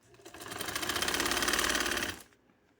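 A sewing machine runs a steady, fast stitch along a strip on a sleeve, loud and close for about two seconds before stopping abruptly.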